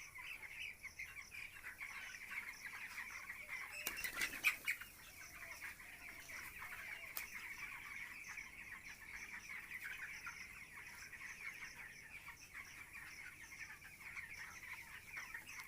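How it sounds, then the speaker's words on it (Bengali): Seventeen-day-old chickens in a poultry shed make a faint, continuous chorus of clucks and chirps, with a brief flurry of wing flapping partway through and no talking. "হাইটেক কোম্পানির মুরগি দেখুন।"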